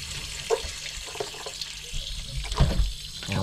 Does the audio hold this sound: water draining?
yes